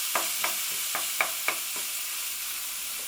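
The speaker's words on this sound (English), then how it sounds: "So I don't want to burn the garlic, but I just want to soften the onions." Onions and garlic softening over medium heat in a frying pan, a soft even sizzle with a handful of spaced spoon taps and stirs early on, then a quieter steady hiss.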